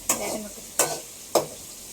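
Onions sautéing in a pan, with three spaced scrapes of a spoon through them, each one a sharp stroke followed by a short sizzling tail, set against a quiet background and no talking.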